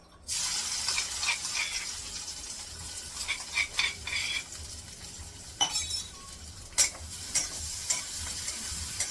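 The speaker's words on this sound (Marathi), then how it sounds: "फक्त लसूण परतण्यासाठी थोडंसं तेल ठेवले" Garlic sautés in a little oil in a pan with a soft steady sizzle, broken by repeated clinks and scrapes of a utensil stirring against the metal, with no voices.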